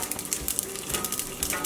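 Peanuts and chopped red chili stirred together in a hot pan, with a soft, steady sizzle and scraping stir sounds close by, no talking.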